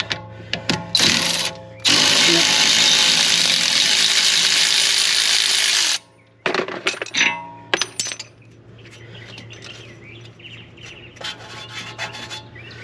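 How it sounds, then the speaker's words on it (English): A Milwaukee power tool with a 24 socket zips out bolts during a front wheel bearing job on a VW MK7 Golf, giving a loud sustained burst, then short ratcheting bursts and clinks of metal, ending in quieter shop noise. "I think we should be able to just do that with the Milwaukee."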